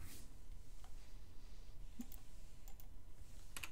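A web address is typed on a computer keyboard, giving a few faint, scattered key clicks over a quiet, hissy room background.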